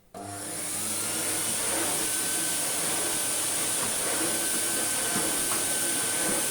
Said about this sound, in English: this is our Vax 6130SX setup for dry vacuuming